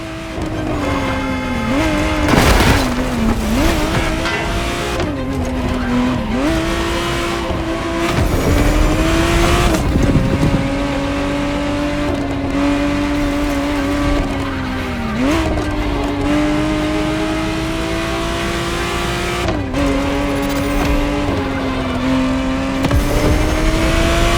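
A 1991 re-engineered Ferrari Testarossa flat-12 revs loudly and steadily through gear changes in the racing game The Crew Motorfest, with brief tire squeals between shifts and no voices over it.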